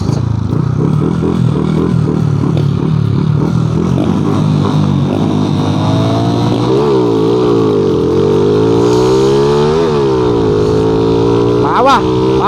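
A racing car with a cold engine revs hard and loud, its pitch climbing and dropping through repeated runs up and down, with a sharp crackle near the end.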